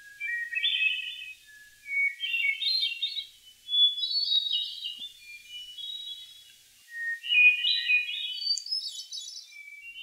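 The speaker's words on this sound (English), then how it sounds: "the forest with the sun just beginning to rise while hearing a few hermit thrushes" Clear, flute-like hermit thrush song in repeated high phrases, rising and falling with short pauses between them, fairly close in a forest at sunrise, with no other sounds.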